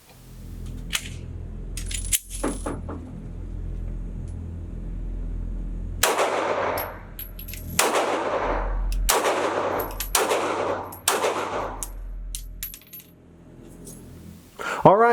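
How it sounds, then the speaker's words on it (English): A Lone Wolf LTD19 pistol, a Glock 19 clone, fires about five rounds at a range, sharp loud cracks spaced roughly a second apart, each followed by a brief ring, with a few ejected casings tinkling. "I'm going to watch it as I shoot and see what happens. I think I'm just going to put about 5 rounds"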